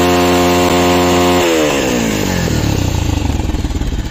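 A modified Bajaj Pulsar 220F motorcycle fitted with a dB killer revs up from a smooth idle into a rising throttle blip, then settles into a choppy, pulsing exhaust burble, loud and close.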